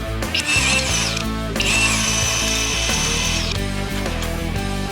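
A power tool, likely an impact gun, removes a track bar bolt on a Jeep Wrangler JL during a suspension lift install, with two long loud whirring bursts amid steady mechanical noise and no talk.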